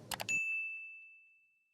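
A single bright notification bell ding rings out clearly and alone, its pure tone ringing on and slowly fading over more than a second.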